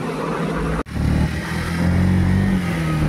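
Motorcycle ridden on the road, a close, loud engine note that drops out briefly for a gear change, then picks back up and revs steadily higher.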